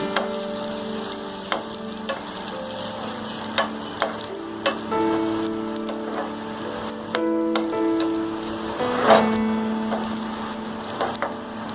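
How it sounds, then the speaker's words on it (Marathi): Charoli nuts frying in a pan, a steady close crackling sizzle with occasional stirring scrapes and light taps of a utensil, continuous and fairly loud with no talk. "आणि चारोळी फ्राय करून घेतो।"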